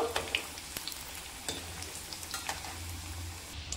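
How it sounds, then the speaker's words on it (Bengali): Chicken snacks being turned over while they fry in hot oil, a close sizzle broken by several sharp scraping and clinking stirs at irregular intervals. "বাকিগুলোও আমি উল্টে পাল্টে আবারও ভেজে নেব।"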